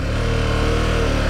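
A large V-twin motorcycle engine runs with a steady, throbbing low rumble, loud and close, holding even revs throughout.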